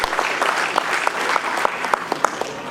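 Audience at a Telugu Christian fellowship Christmas carol event in South Africa applauds the guests, sustained clapping with sharp individual claps standing out near the front.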